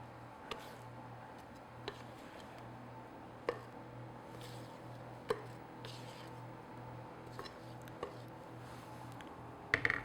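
Cocoa powder and flour are folded by hand into low-fat brownie batter in a bowl, soft squishing strokes broken by sharp, evenly spaced taps of the utensil against the bowl, about one every second and a half, close and quiet.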